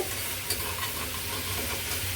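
Chicken sizzles steadily in a hot pan while being stirred and roasted for a pepper fry, with soft scraping and crackling throughout.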